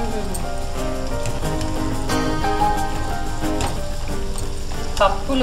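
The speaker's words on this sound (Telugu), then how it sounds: "ఆయిల్ ఫ్రై అయితే తొందరనే వేగుతాయండి" Pumpkin vadiyalu frying in hot oil, giving a dense, continuous sizzle and bubbling crackle, with a low tonal background hum and a few clinks.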